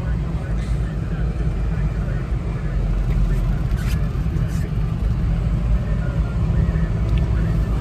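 A Mazda Scrum micro camper van with a 660cc Suzuki F6A engine and 5-speed 4WD drives along, giving a steady, loud low engine rumble and road drone throughout with no clear speech.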